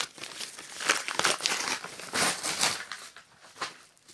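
Close, crackly crinkling of bubble wrap being handled around the collector box of a Mattel WWE Elite SDCC 2010 Undertaker figure, in uneven bursts that fade toward a few final rustles.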